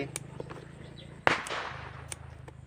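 A single sharp firecracker bang goes off beside a rice field where farmers scare birds away, loud and sudden over a low steady engine-like hum, with a brief echoing tail.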